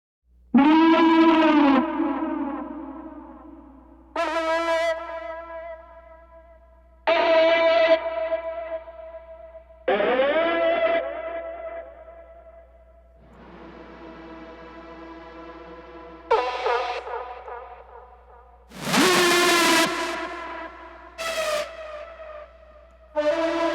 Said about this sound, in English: I added what's called leads and guitar signature